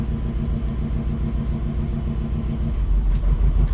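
A 1995 Subaru GC8 engine with a boost problem, running and revving up, a loud close low-pitched rumble that swells toward the end, alone without talk.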